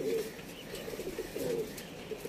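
Soft, low pigeon coos repeat a few times, murmuring gently at moderate distance with faint background noise.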